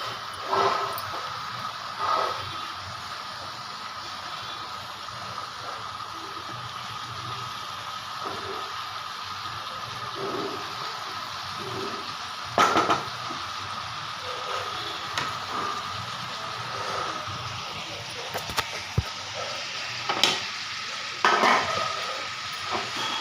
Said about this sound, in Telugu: ఈరోజైతే డైరెక్ట్గా తాలింపు వేస్తాను